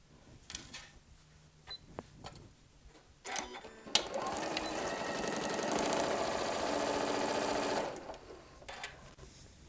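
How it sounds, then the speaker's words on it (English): A sewing machine stitches apron straps. A few short clicks and whirs lead into one steady, close run of rapid mechanical stitching lasting about four seconds, then it stops. "I'm just going to sew a 1/4 inch all the way across."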